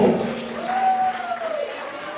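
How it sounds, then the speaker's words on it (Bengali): Audience applause and crowd noise at Tollywood Night 2025, a Bengali cultural stage event: a dense burst of clapping that eases slightly, with a sustained vocal whoop rising over the crowd. "একটা বড় হাততালি এদের প্রাপ্য।"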